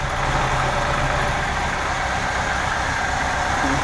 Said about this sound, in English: The engine sounds normal.